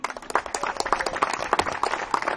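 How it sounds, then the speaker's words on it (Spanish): Church congregation clapping, a steady patter of many hands at moderate distance, fairly soft and continuous throughout without voices on top. "Un aplauso al Señor."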